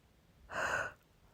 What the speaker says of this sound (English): Sorry, I cannot stop yawning.